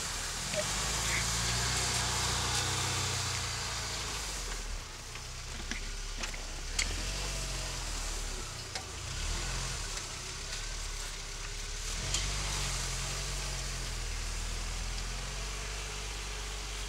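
Car engine driving along steadily with road and tire noise, a continuous rumbling hum that dips briefly midway, with people talking over it.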